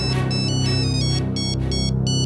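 A telephone rings in a crime drama scene, with a loud electronic ringtone repeating in rhythmic bursts over a steady low hum.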